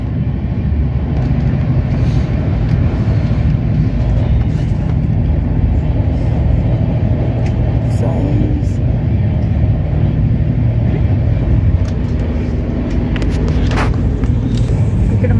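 A moving train rumbles steadily and loudly, with rattling carriages and occasional clanks throughout the clip.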